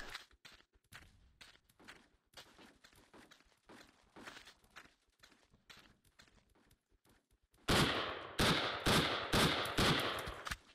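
Rapid game gunfire from a VSK-94 rifle in the blocky shooter BlockPost, sharp repeated shots in quick bursts, quieter at first and then much louder and denser near the end.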